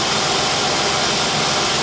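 A 2005 Jeep Grand Cherokee 3.7L engine idles smoothly after its IAC valve was cleaned, a loud, steady, even drone recorded close with no variation or talk.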